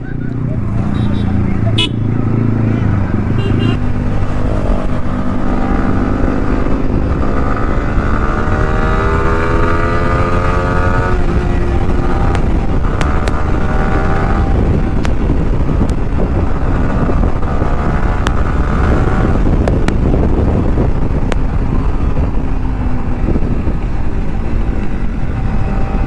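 A V3 motorcycle fitted with an aftermarket exhaust on a group Sunday ride, its engine droning loudly and rising and falling through gear changes under heavy wind buffeting, with a rider talking over it throughout.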